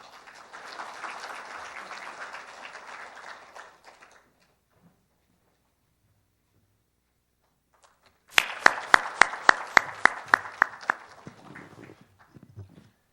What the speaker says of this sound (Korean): 여러분 큰 박수로 무대 위로 모시도록 하겠습니다